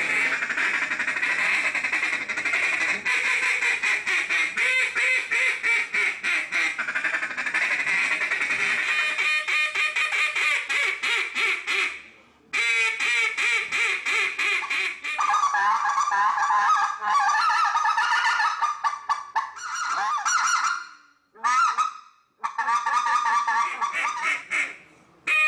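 Ducks and geese honk and quack loudly and nearly without pause in a dense, close chorus, briefly dropping out a few times near the end.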